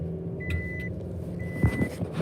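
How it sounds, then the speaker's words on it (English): A vehicle's reversing alarm gives two clear electronic beeps spaced about a second apart over a low engine rumble, with a couple of dull knocks near the end. "You must endure the beeping just as I."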